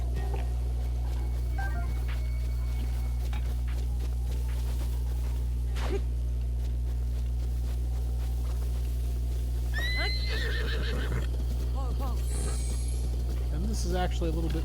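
A horse in the video game Breath of the Wild whinnies with high, quavering neighs, heard over a constant low hum, rustling and hoofbeat-like clops, with a voice talking intermittently.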